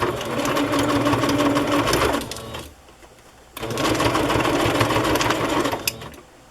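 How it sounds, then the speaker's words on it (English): A sewing machine stitches across the bottom of a fabric pocket on a Christmas journal, running in a close, steady whir for about two seconds, pausing briefly, then running again. "I'll just sew across the bottom of this so it won't be flappy"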